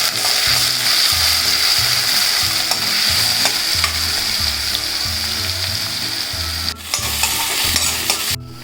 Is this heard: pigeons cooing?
no